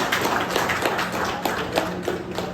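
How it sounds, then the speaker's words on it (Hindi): Dense, loud clapping from an audience at a Kumaon Divas event held at a defence academy, a continuous close patter of hands throughout. "तालियां बजाइए"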